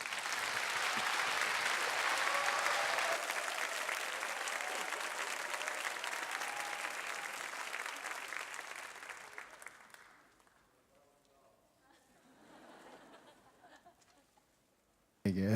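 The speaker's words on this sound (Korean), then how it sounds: "우리 나오실 때 뜨거운 박수로 환영하시겠습니다." A young adults' church congregation breaks into loud, dense applause to welcome a pastor, sustained for about ten seconds before fading to near quiet with faint murmurs.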